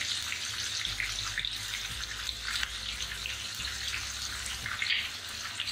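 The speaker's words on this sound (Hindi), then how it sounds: "अब इसमें डालेंगे जीरा और हमारे साबुत मसाले और घी" Cumin, whole spices and ghee sizzle in a hot pan for Punjabi restaurant-style dal makhani, a steady close, even crackling hiss with a low hum underneath and no talk.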